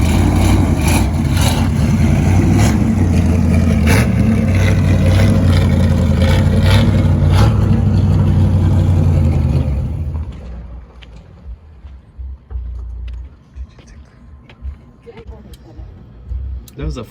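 A 454 engine with longtube headers and an exhaust leak runs loud and steady with a rough, rumbling roar for about ten seconds, then cuts to a low idle-like murmur with scattered clatter and voices.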